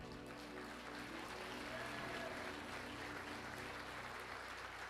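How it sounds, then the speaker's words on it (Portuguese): Congregation at a 2023 revival congress church service in Viamão clapping together, a dense, steady wash of applause filling the hall for the full stretch with faint voices mixed in. "Salva de palmas para Jesus."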